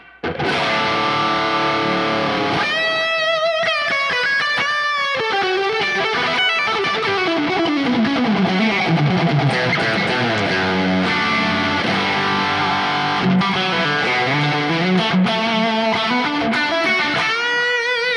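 Electric guitar played through a Nano Cortex high-gain amp preset with extra delay and reverb, distorted sustained chords and melodic lines ringing continuously and loudly with echo tails, no talking.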